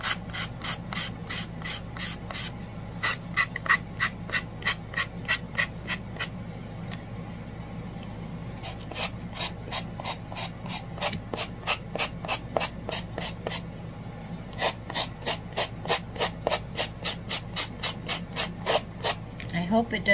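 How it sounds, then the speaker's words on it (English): Sandpaper rubbed by hand over the corner of a wooden piece gives quick, rhythmic rasping strokes in repeated bursts, close and clear, with brief pauses between runs. "I hope it doesn't bother you, the sound of sandpaper."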